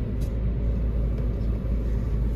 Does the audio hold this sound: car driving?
yes